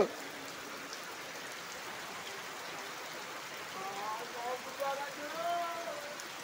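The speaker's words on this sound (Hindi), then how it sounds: "फुल बारिश हो गया रे" Steady heavy rain hisses continuously over a flooded village, a dense wash of droplets, with faint voices murmuring in the background.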